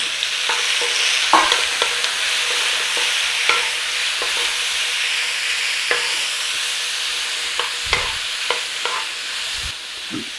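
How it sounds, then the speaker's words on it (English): Peppers sizzle loudly in a hot pan while a utensil stirs and scrapes them at irregular intervals. "Now you need to put a little bit of frying on these"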